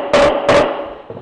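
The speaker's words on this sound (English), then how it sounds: "Push the plug in by hand and tap it in with a rubber mallet." Two quick, dull rubber mallet taps on a wooden plug close by, a short pause between them, followed by a fainter knock.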